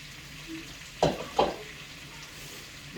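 Green peppers hit a hot pan on a deck grill with two quick, sharp sizzling hisses over a faint steady frying crackle, closing with another hiss.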